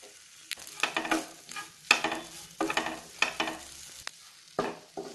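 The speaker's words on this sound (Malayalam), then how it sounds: "ഇത് മീഡിയം ഫ്ലെയിമിൽ വെച്ച് വറുക്കുന്നതാണ് നല്ലത്" Grated coconut is stirred and dry-roasted in a pan over a medium flame for Kerala varutharacha fish curry. A spoon scrapes through it in repeated rhythmic strokes, close and steady, with no voices.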